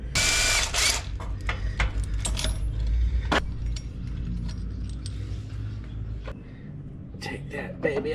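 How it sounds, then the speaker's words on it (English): A puller works on the flywheel of a 2012 Polaris Ranger 500 EFI engine, with close metallic ratcheting, clanks and jangling clicks in bursts while a person talks. "We're gonna pull this flywheel off. I got a puller."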